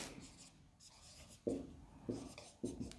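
Pen writing on paper during a maths lesson, close scratchy strokes in short bursts separated by brief pauses, quiet and alone without talk.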